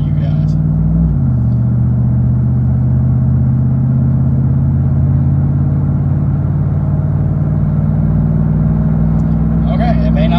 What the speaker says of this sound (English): we are gonna drive it down the road here, and you kind of see what I'm talking about with the RPMs